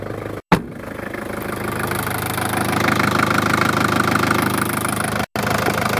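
Daihatsu turbo diesel engine idling nearby with a steady, knocking clatter and a faint whine, briefly broken by two short dropouts, with no talking.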